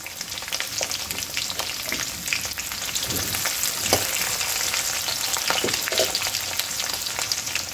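Sliced onion and green chillies frying in a pan of oil, a loud close sizzle with bursts of crackle and stirring scrapes throughout.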